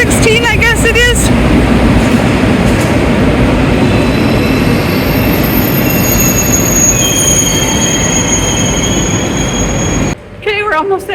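A packed passenger train on a journey toward Saint-Jean-Pied-de-Port roars loudly along the rails with continuous rumble and high wheel squeal, while voices are briefly heard at the start and near the end.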